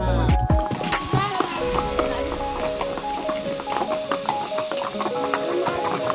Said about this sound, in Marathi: जाताना 2 घोडे घेतलेत